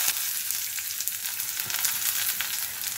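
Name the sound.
chopped onion and whole spices frying in oil in a pan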